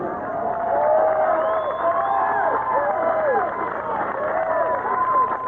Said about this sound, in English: Not in Hollywood, but once again in suburban Detroit, with a midnight crowd of horror fanatics.